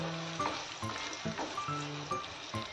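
Red chilli powder, spices and green chilli fry in a pan while being mixed for wheat-flour ukal pendi, a steady close sizzle broken by regular clinks and scrapes of the spoon.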